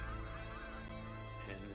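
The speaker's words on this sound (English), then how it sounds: "the stillness was shattered by thousands of birds fleeing before the avalanche of dirt" Thousands of birds flee ahead of a Dust Bowl dust storm, heard as a faint, distant chorus of goose-like honking calls over a low rumble.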